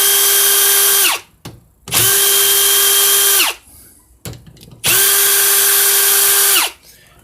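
Power tool whirring loudly and close in three sustained bursts, each winding down at the end, as it removes bolts from a 4R70W front pump with aluminum threads.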